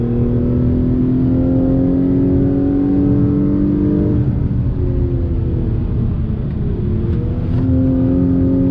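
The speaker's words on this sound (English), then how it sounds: "we're gonna use the paddles this last go around through the twisty bits on throttle. Pulls nicely all through the rev range." A 2021 Acura TLX A-Spec accelerates hard on throttle through twisty roads using paddle shifts, its engine droning loudly from inside the cabin and rising steadily in pitch through the rev range, with a shift partway through.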